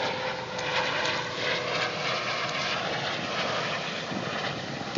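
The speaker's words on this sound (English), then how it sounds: "Oh, here comes a helicopter." Steady engine drone of a helicopter passing overhead, fairly constant and moderately loud for several seconds, with no talking.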